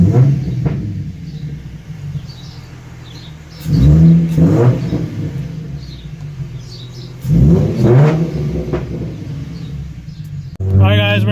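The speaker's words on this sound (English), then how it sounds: "for some reason the car just sounds so much healthier. Like, it sounds so much meaner." A V6 Ford Mustang with a Spectre cold air intake revs repeatedly, with three loud throaty bursts rising over a steady low idle rumble, heard close and strong.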